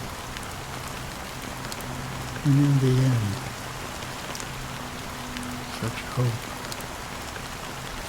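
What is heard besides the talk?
rain falling in the video game Honkai Star Rail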